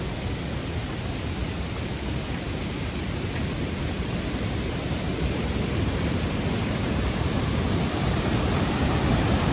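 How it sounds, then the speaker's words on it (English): A waterfall in northern Connecticut or Massachusetts roars as a constant, loud broadband rush of falling water, steady and unbroken from start to finish with no voices. "I want to show you an incredible, beautiful waterfall"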